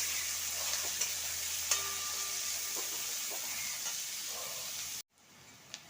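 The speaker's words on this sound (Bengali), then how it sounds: "পেঁয়াজটা দিয়ে দিলাম তেলে।" Three large, thinly sliced onions sizzle in hot oil with a steady, bright hiss and a few soft pops, continuing evenly before cutting off abruptly near the end.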